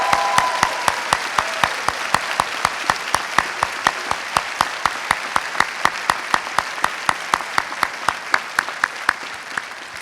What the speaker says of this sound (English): Please join me in applauding his commitment to serving our country.